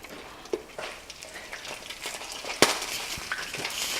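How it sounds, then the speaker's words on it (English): Chicken pan frying in oil, with a steady crackling sizzle broken by scattered sharp pops and one loud spatter burst, heard close up with no talking. "I don't like frying chicken in this popping business."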